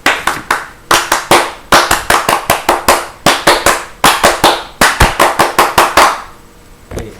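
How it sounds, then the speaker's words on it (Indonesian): Group performing the Pramuka scout clap, loud, crisp handclaps in a fast repeating rhythmic pattern, done twice in unison with short pauses between phrases, close and clear with no talk over it. "mari kita melakukan tepuk pramuka."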